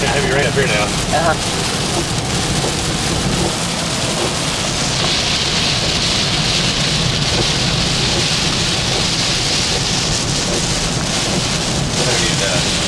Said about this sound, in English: Heavy rain up here now.